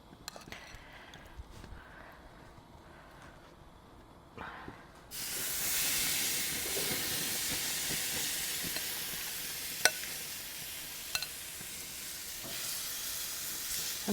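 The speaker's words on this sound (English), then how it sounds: "we've got the temperature on the barbecue just shy of 250, which I'm going to pop these chops on" Pork chops land on a barbecue grill heated to just under 250 and start sizzling. The hiss is steady and fairly loud, with a few crackles and pops. A quieter stretch of handling noise comes before the sizzle begins.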